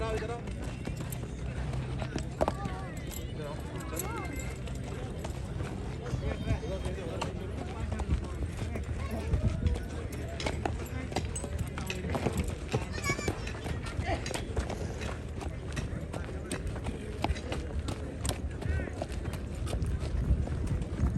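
Mare's hooves clip-clopping at a steady walking pace at the Sarangkheda horse fair, a tall Nukra mare from Indore, set against a busy crowd with voices talking throughout.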